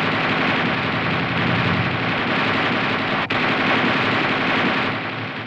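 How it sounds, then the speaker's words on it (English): Coaxial machine gun on an M551 armored reconnaissance vehicle firing in long bursts, a loud, dense, continuous rattle lasting several seconds with one brief break. "The gunner continues to fire in 20 to 25 round bursts"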